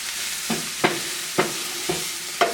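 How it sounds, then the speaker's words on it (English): Black bean curry being stirred in a pan after garam masala, coriander and chili powder go in: five spaced scraping strokes sound close and distinct over a steady low sizzle, with no voices. "Stir that in."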